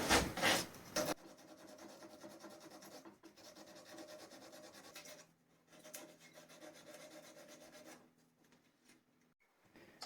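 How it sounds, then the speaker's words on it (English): Steady rasping of sandpaper against a turned laburnum wood piece, continuous rubbing close by with a few brief pauses, preceded by a short loud burst. "I'm just going to sand all that off now"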